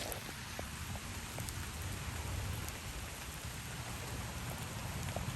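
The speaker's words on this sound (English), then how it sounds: "It's raining like crazy." Heavy rain pours down in a dense, constant roar with close drops pattering on a surface, steady and unbroken throughout with no voices.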